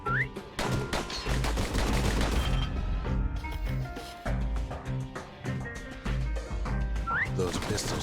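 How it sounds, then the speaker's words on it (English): Pistols in the video game Bastion fire in fast, rapid volleys, sharp repeated shots over a busy mix of music and game effects, fairly loud throughout. "Those pistols could spit out rounds just as quick as you could pull the trigger."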